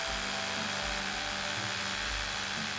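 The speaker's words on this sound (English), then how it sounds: "Using the small hole you've already made, drill until you reach your tape mark." A 12mm masonry bit bores steadily into a wall for a safe mounting hole, a continuous grinding whine with slight pulsing pressure changes, close and fairly loud with no talk.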